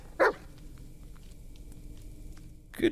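A dog barks in the PC video game Blair Witch, two short sharp barks about two and a half seconds apart, fairly close and clear over a quiet forest ambience.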